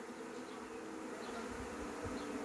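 Steady buzzing of a swarming honeybee colony, a dense continuous drone of many bees close by, with faint low rumbles underneath.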